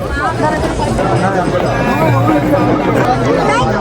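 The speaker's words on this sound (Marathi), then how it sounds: "इथं यात्रा चालू आहे मित्रांनो, आणि मोठ्या प्रमाणात गर्दी" A dense crowd mills at the Mandhardevi temple fair, a constant babble of many voices and footsteps close around, steady and loud for the whole stretch.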